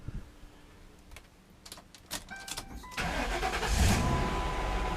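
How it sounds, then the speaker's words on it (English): A 2009 Volvo S40 T5 AWD R-Design turbocharged five-cylinder cranks briefly after a few faint clicks, then catches and settles into a steady, loud close idle that fills the rest of the short stretch with no talking. "Get this thing cranked up here."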